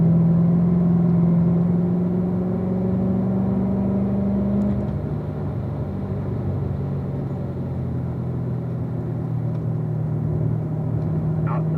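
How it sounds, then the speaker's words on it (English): Car engine pulls steadily under throttle while climbing a hill on a race track, a continuous close rumble with a slight rise in pitch partway through, with no talk. "Now you can roll into the throttle coming up the hill."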